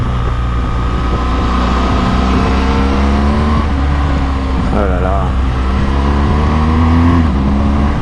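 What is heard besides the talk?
BMW R1200GS motorcycle engine accelerating with quickshifter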